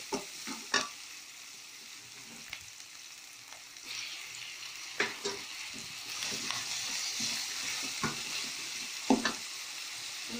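Onions and tomatoes sauté in a pan for paruppu urundai kuzhambu, a steady close sizzle broken by the scrape and knock of a stirring spoon every second or so.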